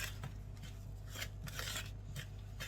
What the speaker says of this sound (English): and I'm just going to stir it in